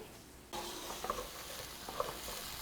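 Wine poured into a hot pan of browned chorizo for a Spanish-style mussel broth, a sudden steady sizzle and hiss starting after a quiet moment, close and fairly faint, with small spits and pops.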